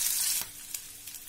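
Onions sautéing with browned garlic in a pan give a soft, close sizzle that starts louder, then settles into a quieter hiss with a couple of faint stirring scrapes.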